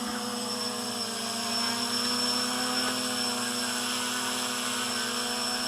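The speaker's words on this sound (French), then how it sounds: "Voilà, le drone est en l'air." GAUI X500 quadcopter drone hovering in the air, its propellers producing a steady, close, high-pitched buzz with a constant tonal hum throughout, no voices.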